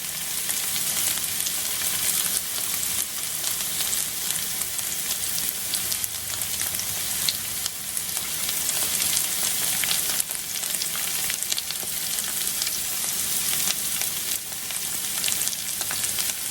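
Breakfast potatoes seasoned with all-purpose seasoning fry undisturbed in a pan, a dense, steady, close crackling sizzle that holds evenly throughout with no voices.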